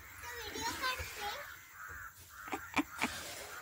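Several loud, close crow caws ring out near a farmhouse under construction in Trimbakeshwar, following stretches of people talking, including children's voices.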